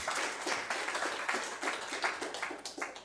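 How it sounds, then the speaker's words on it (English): An audience at a pitch night claps for the competing teams, with a steady patter of hand claps at moderate volume lasting throughout. "giving them a big, round of applause"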